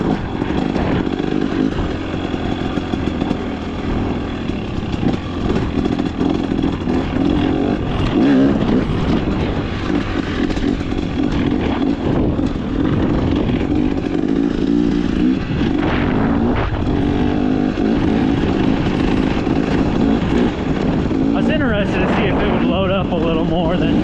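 A KTM XCW 300 two-stroke dirt bike engine runs continuously and close, its raspy note rising and falling with throttle changes, while a voice talks over it.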